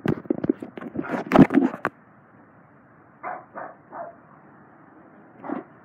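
A dog barks in a quick burst of several loud, close barks. After a pause, a few softer, separate barks follow.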